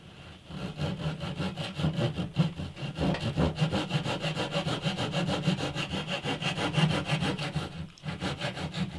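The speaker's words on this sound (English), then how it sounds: "So next thing is to get this sawn off." Rhythmic back-and-forth strokes of a hand saw cutting through the wooden bridge of an antique parlour guitar, close and steady with a brief pause near the end, no speech.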